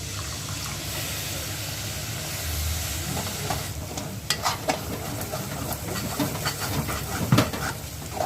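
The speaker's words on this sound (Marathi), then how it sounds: "मसाले असे लागले नाही पाहिजे, कंटिन्यू फिरवत राहायचं मसाल्यांना, तेव्हा मसाले चांगले भाजतात" Masala spices are stirred and roasted in a pan for a bangada (mackerel) curry. A loud, steady sizzle runs throughout, with scraping stirs that become more frequent and louder toward the end. No talk.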